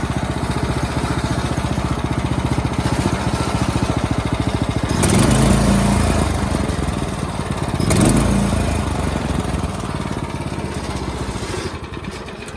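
A small Klipper go-kart engine runs steadily at a rattling idle with its governor screwed far in, swelling twice in brief revs before settling back to the same loud, close, continuous chug with no talking.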